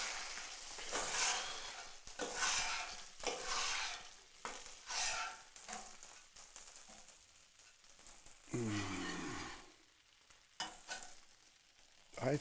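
Hamburger meat and bacon frying in a pan, with a loud steady sizzle broken by repeated scraping and stirring strokes from a utensil across the pan, close up and without talk.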